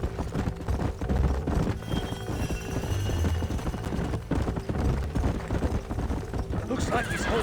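Horses neigh and whinny over steady clip-clopping hooves in a western video game, the riding sounds continuous and close beneath talk and background music.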